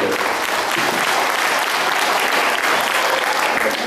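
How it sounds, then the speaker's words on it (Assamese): Sustained, loud clapping from a crowd gathered at a farewell meeting for the Numaligarh refinery's general manager, an even wash of many hands continuing throughout. "আজি এইটো প্ৰথম হাত চাপৰি আছিল"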